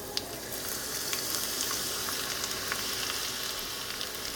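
Onions with mustard seeds frying in hot oil in a pan for Kerala-style paniyaram, a steady dense sizzle with faint crackles and pops, no talking.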